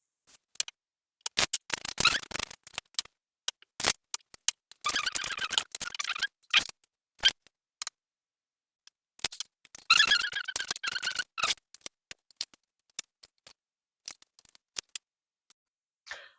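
Tarot cards are shuffled and drawn in quick, crisp bursts of riffling and flicking, separated by short taps and pauses, close and fairly quiet with no voice.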